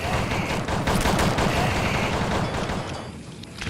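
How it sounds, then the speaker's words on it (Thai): Loud, dense bursts of rapid gunfire crackle continuously in the zombie game Dead Horde, rattling away without pause before easing slightly at the end. "ยิงซะระเบิดเลย"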